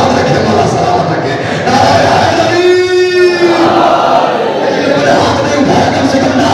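A crowd at a religious majlis, a chehlum gathering, raises a loud chanted slogan in unison, a sustained collective cry rising over steady crowd murmur for a few seconds.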